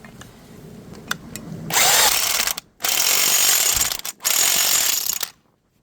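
Impact wrench tightening a motor mount bolt on a 2.0L Ford Focus ZX3, three loud close bursts of rapid hammering, each about a second long, separated by short pauses, after a few light clicks.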